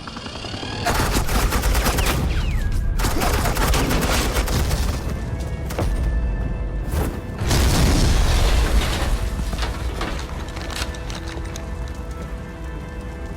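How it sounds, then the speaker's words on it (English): Gunfire and explosions in an animated Batman episode: a loud, sustained barrage of rapid shots with crackling bursts and booms, pausing briefly midway before another heavy volley. "Suppressing fire."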